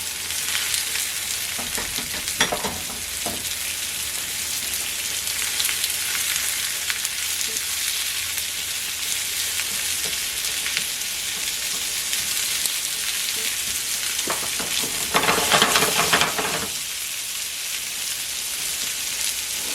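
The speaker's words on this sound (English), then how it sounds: "Then you throw your noodles in." Whole wheat noodles stir-fry for kimchi noodles with a loud, continuous sizzle and hiss, broken by a few sharp scraping stirs and a louder sputtering burst near the end.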